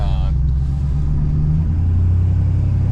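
A 2017–2019 Ford 6.7 Powerstroke diesel pickup on a roughly 600-plus horsepower tune pulls hard, its deep, steady engine rumble loud and close inside the cab for the whole stretch.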